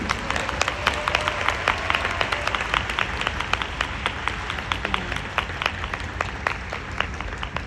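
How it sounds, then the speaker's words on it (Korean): An audience applauds after a speech at a forum event, a steady wash of clapping from a large crowd with sharp individual claps standing out, holding throughout. "여러분 다시 한번 큰 박수 부탁드립니다."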